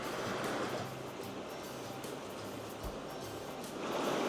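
A river flows past a natural swimming hole at a creek rest stop, giving a steady broad rushing wash that holds level throughout, with no voices.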